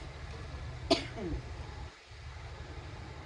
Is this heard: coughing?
yes